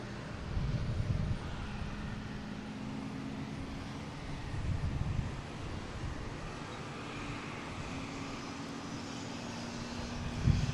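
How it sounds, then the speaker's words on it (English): A Bombardier Global 6000 business jet at Boston Logan gives off a broad, low rumbling roar with soft wind buffeting, moderately loud and steady, surging slightly at moments, with no talk. "That was a Bombardier Global 6000."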